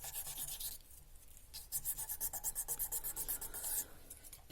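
Sandpaper rubbed by hand over a crushed opal ring on one spot, giving a close, quiet series of rhythmic rasping strokes that speed up into quick repeated scrubs midway.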